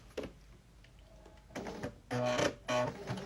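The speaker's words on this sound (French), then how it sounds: "on est parti pour coudre donc, les 4 côtés sans s'arrêter" A sewing machine stitches around the four sides of a fabric mask, starting with a few faint clicks before the motor whirs up into two short, loud runs of rapid stitching, close by.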